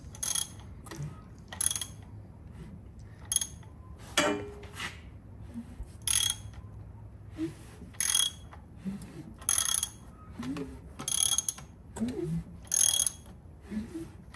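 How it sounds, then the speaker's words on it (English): A ratchet loosens bolts on a Chevy small-block 350 V8 during teardown, giving short, sharp clicking bursts spread irregularly across the clip. They are close and fairly loud, with a low hum and faint handling noises between them. "Now I'm just loosening my bolt."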